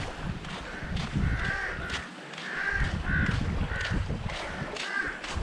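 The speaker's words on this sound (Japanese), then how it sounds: "ほんと島中どこ行ってもカラスがうるさい。" Crows cawing on an island, several harsh caws repeating at irregular intervals over a steady outdoor background, fairly close and clear.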